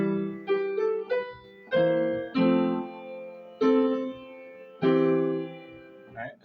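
A piano arrangement played straight on the beat, with chords and melody notes struck in a steady pulse, each chord ringing briefly before the next, moderately loud and close with no voice over it.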